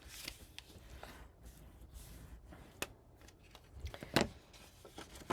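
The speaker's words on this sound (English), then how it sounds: "I'm folding these up so the little tabs face straight up" Paper tabs for a handmade mini album are folded and burnished by hand, giving soft close rustles, crinkles and a few crisp creasing snaps at a quiet level, with no talking.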